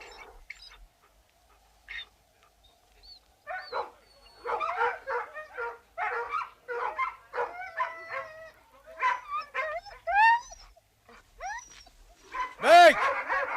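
Dog named Buck whimpering, yipping and barking in bursts, growing louder toward the end with a sharp high yelp, with someone speaking French between the sounds.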